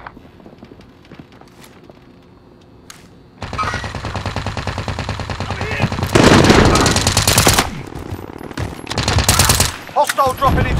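Loud automatic gunfire from a Call of Duty: Modern Warfare match: sustained rapid bursts and overlapping shots that grow denser and more intense partway through, with game voices faintly underneath.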